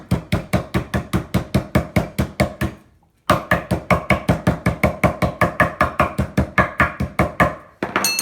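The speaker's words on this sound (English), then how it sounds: "I just give them a little pound with a little cubing hammer." A meat hammer pounds garlic cloves rapidly and repeatedly on a board in a steady rhythm, with a brief pause before the close, loud strikes resume.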